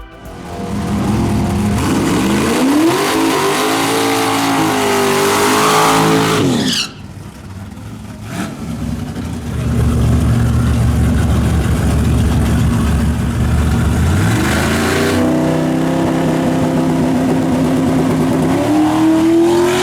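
A turbocharged Ford Mustang drag car releases off the transbrake and accelerates hard, its loud engine climbing through rising revs. There is a brief drop and a gap partway through before another roaring, revving pull.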